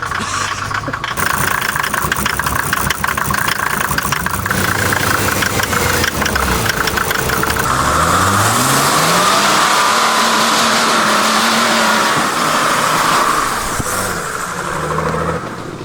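Off-road vehicle at an RFC Poland off-road competition, its engine idling roughly and then revving repeatedly in rising and falling sweeps, loud and close throughout.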